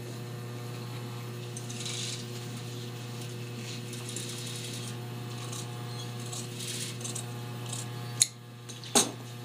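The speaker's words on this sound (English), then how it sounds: "we're gonna sew this at center back, half inch in from the edge." A sewing machine stitches the center back seam of a jacket undercollar half an inch from the edge, its even mechanical whirr and ticking running steadily, then ending in two sharp clacks.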